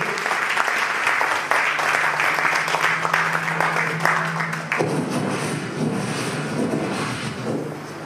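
Church congregation clapping in praise, loud and continuous, dropping to a softer, thinner level of applause partway through.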